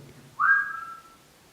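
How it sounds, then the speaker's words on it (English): A single clear whistled note in Balgonie Castle that rises briefly and then holds steady for under a second, heard alone over a faint low hum. "If you are present with us, maybe you can copy my whistle."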